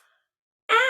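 A voice imitates heavy, hard breathing after running, a single loud breathy exhale that comes in alone after a stretch of near silence.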